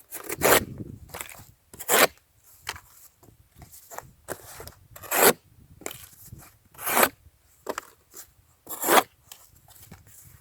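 A thin Bestech Paladin pocketknife blade slicing through material in a series of short, crisp cutting strokes, each a brief bright burst separated by quiet pauses, close and fairly loud.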